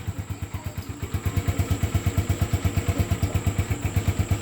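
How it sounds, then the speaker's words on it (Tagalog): A motorcycle engine idles close by with a rapid, steady putt-putt rhythm that grows slightly louder as it runs. "papaandarin rin daw niya yung motor"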